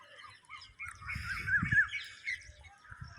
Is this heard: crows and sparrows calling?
yes